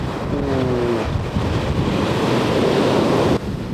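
Ocean surf roars steadily as a wave breaks and washes in, with gusty wind buffeting the microphone throughout.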